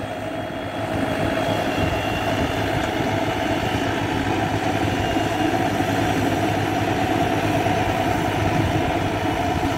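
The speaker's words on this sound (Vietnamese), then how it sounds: "hình như máy cày hôm nay đã đến rồi các bạn" A tractor plough's engine runs in a farm field, giving a steady, moderately loud low drone with a constant mechanical rumble throughout and a slight rise in level near the start.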